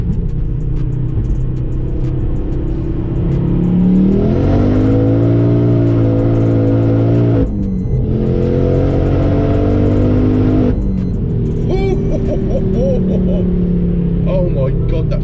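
A 500hp Ford Focus RS Mk2 engine roars loudly from inside the car as it accelerates onto a main road, its pitch climbing through gears with brief dips at shifts, and excited talk faintly under it.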